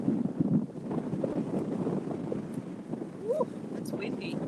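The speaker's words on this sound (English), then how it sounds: "Woo, it's windy." Wind roars and buffets the microphone steadily, with a person's voice faintly underneath and a brief bird-like chirp near the end.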